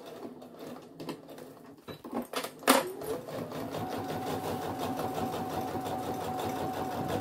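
A sewing machine stitches the bottom of a weekend bag, with a few handling knocks at first, then a steady continuous whirring run close up.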